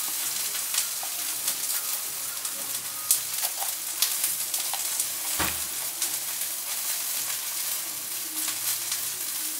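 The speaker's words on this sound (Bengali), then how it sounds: "এখানে কিছুটা তেল দিয়ে দিচ্ছি। তেলটা গরম হয়ে গিয়েছে" Hot oil sizzling in a frying pan, a steady crackling hiss with scattered pops and one sharper clatter partway through.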